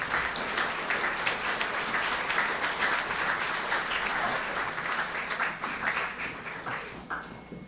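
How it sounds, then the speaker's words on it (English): Sustained applause from an audience at the Lawrence County Sports Hall of Fame induction ceremony, steady, dense clapping that holds loud for several seconds before tapering slightly near the end. "please, join me in welcoming to the Lawrence County Sports Hall of Fame inductee, Jay Bird, Dr. J, and our mentor, Jay Chapma"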